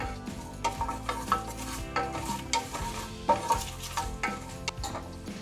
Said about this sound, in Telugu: సోంపు 1 టేబుల్ స్పూన్, యాలకులు 2. వీటిని ఒకసారి ఫ్రై చేసుకోవాలి